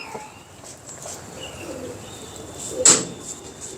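A pigeon coos softly in a quiet outdoor space, low murmuring calls with a brief sharper knock or chirp near the end, moderately close.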